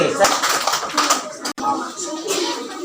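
Applause for Team B at an elementary school quick-answer quiz contest, a dense burst of clapping from a classroom crowd that runs throughout, briefly breaking off near the middle before resuming.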